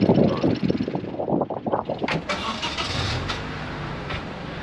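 A car bought as a Copart salvage vehicle cranks over with a rapid starter chatter, then catches and settles into a steady idle, heard close up.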